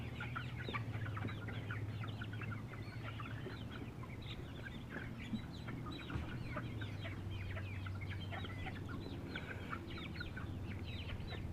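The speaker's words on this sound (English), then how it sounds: "Now the turkeys are coming over to this pan." Turkeys and young chicks cluck and chatter continuously around a feeding pan on a damp, cool farm morning, a dense overlapping flock close by with no talking.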